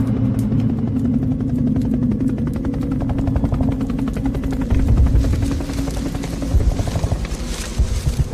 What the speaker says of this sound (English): Choppers have landed since we took the hill.